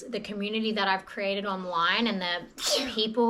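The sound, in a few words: sneeze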